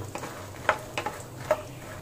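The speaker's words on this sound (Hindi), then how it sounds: "इसमें डाल देंगे अखरोट, इनको भी हल्का सा सेक लेंगे हम" Walnuts roasting lightly in a pan on low heat give a few soft, sparse taps and scrapes against a faint, quiet background.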